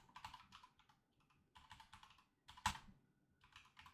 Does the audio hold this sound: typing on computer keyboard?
yes